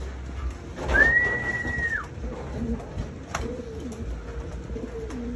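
A racing pigeon coos close by, joined by a long sliding whistle-like call, with low cooing continuing afterward.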